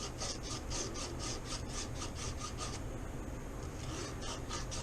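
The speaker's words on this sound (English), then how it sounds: "take a little emery cloth, some sandpaper if you will, and round off the tip of this thing" Emery cloth sanding the tip of a golf club shaft: steady, rhythmic rasping strokes, close and fairly loud, repeating evenly for several seconds with a brief change in pace midway, no talking.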